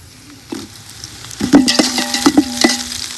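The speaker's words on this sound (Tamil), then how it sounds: "கட் பண்ணி வச்சிருக்க பச்சை மிளகாய் சேர்த்துக்கலாம்." Green chillies hit hot oil in a pan for village-style chicken biryani, sizzling loudly and close, with stirring scrapes and spoon clinks over the crackle.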